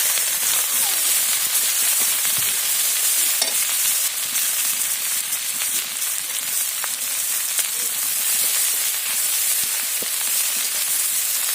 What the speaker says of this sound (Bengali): এবারে পেঁয়াজ কুটি দিয়ে দিচ্ছি